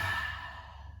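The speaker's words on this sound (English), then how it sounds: "Inhale, tongue out, exhale." A forceful open-mouthed exhale with the tongue out during a lion's breath yoga breathing exercise, a single breathy rush that starts strong and slowly tapers, heard close and alone.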